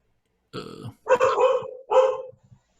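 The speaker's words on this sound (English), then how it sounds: "even the dog is barking at me" A dog barks three times in quick succession, close and fairly loud, with short yips trailing off at the end.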